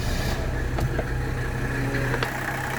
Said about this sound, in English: we're gonna go ahead and fire it up here, let the glow plug cycle